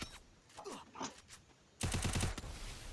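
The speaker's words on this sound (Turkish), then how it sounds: "Bizim arkadaş gelmiş bana sıkıyor." Gunfire in an online video game shooter, a quiet faint shot or two followed by a louder rapid burst of automatic fire that fades out.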